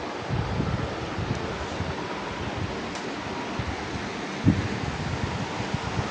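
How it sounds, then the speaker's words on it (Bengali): Heavy rain and gusting wind fill the air with a steady, dense, rushing hiss, broad and unbroken, with one brief thump partway through and no speech. "অনেক বৃষ্টি আর অনেক বাতাস।"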